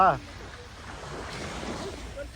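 Ocean waves wash and splash on Inage Beach in Chiba, a steady broadband surf with wind noise across the microphone, and a brief voice at the very start.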